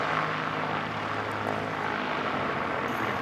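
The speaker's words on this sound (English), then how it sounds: "we've got this very nice P68, looks like a new one to me" A Partenavia P68 twin-engine propeller aircraft used for twin-engine training runs its engines at an aero club, a loud, steady droning roar throughout.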